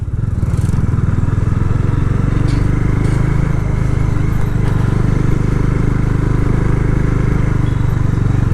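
A Bajaj Dominar 400 motorcycle with an engine fault drones loudly and steadily while ridden, a constant close rasping engine note with a faint buzzing edge and no letup.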